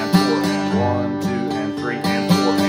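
Bluegrass rhythm guitar strummed with a twisting, snapping wrist accent, bright chords struck in a quick repeating pattern with sharp attacks, close and loud, no voice over it.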